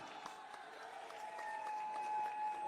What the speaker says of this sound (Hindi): तालियों के साथ एक बारी जोरदार तालियां।